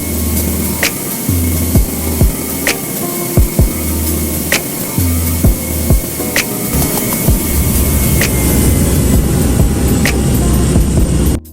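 An Airbus airliner lands in the GeoFS flight simulator. A steady engine and air roar runs throughout, with recurring low pulsing tones and sharp periodic clicks, close and loud.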